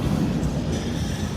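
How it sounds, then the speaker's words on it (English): A freight train rolls along a siding in Indiana or western Kentucky, a steady low rumble of rail cars heard from nearby with no talk over it. "it looks like we got another train coming up on the siding"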